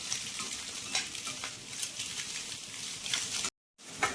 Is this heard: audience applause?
no